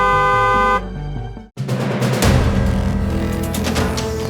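A loud vehicle horn blares steadily, then cuts out, followed by a jumble of several horns honking amid street traffic noise.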